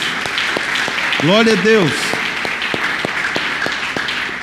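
A church congregation claps in a steady, even rhythm, about three claps a second, under a loud nearby voice speaking and briefly singing.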